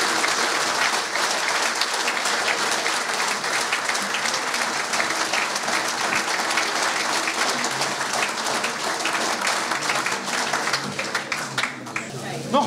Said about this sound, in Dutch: Nogmaals een hartelijk applaus